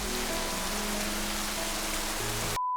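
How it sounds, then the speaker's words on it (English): Rain pours steadily on a golf outing, a dense continuous hiss of drops striking surfaces, loud and close, cutting off abruptly near the end. "I got caught out in the rain."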